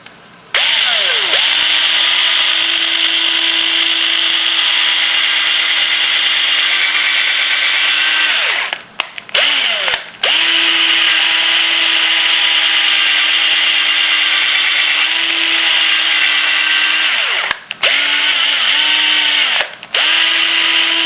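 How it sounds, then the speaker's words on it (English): A power drill whines loudly as it bores through wood, running in long sustained bursts with brief pauses as the bit stops and restarts. "I decided this time I would go ahead and drill me a hole through"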